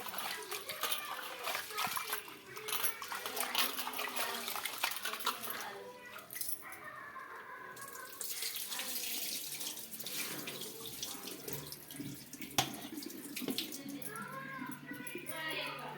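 Running tap water splashes steadily as food is rinsed in a sink, with occasional clinks of utensils; fairly close and continuous.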